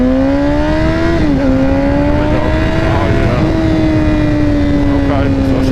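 Motorcycle engine running steadily after an ignition and charging fault that made it misfire, a loud continuous drone with strong harmonics that shifts pitch slightly around one and three seconds.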